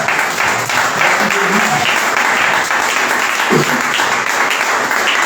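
A Sunday church congregation claps loudly and continuously in acclaim, a thick, even wash of hands close by, with faint murmured voices and a brief cry rising underneath.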